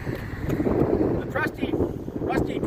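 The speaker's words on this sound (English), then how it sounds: "it's cold and windy out here" Cold wind buffets outdoors with a steady low rumble and gusty microphone noise, while people talk over it.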